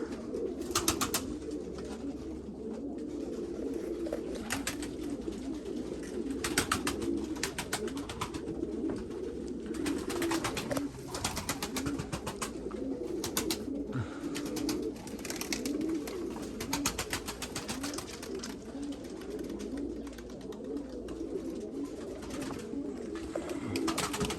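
Steady pigeon cooing fills the scene, soft repeated low throaty calls from several birds close by, with faint rustling and occasional sharp clicks.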